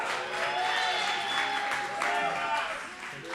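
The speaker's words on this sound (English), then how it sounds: "Can we have some applause?" Applause and cheering from a comedy show audience fill the space, steady and fairly loud, with a few voices calling out over the clapping.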